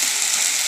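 Sem beans frying in a pan as a vegetable dish is stirred, giving a steady bright sizzle close up with no talk.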